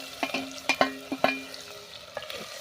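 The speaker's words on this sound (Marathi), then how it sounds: "हिरवी मिरची जी आहे ना ती टाकून घेऊया." Green chilies drop into hot oil with bay leaf and a small cinnamon piece for village-style phodnicha bhaat, giving a handful of brief spattering crackles and pops, close and fairly quiet, fading toward the end.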